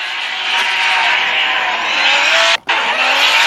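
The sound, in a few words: BMW drift car sliding with tire squeal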